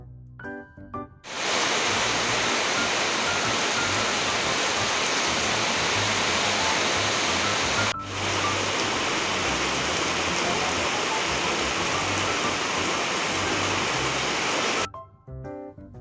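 Steady rain falls outside in a dense, even hiss for about fourteen seconds, broken by one brief pause midway, with no voices.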